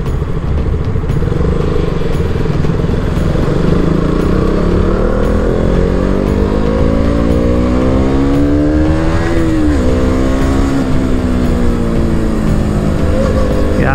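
A KTM Duke 200 motorcycle on a test ride, its engine loud and close, climbing steadily in pitch as it revs, peaking, dipping briefly, then revving on over a wind-blown roar.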